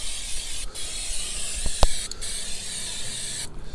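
Brake cleaner sprayed from an aerosol can onto an oily brake cylinder on a crashed salvage Fiat 500, giving short hissing bursts separated by pauses, with a couple of small clicks and knocks in between.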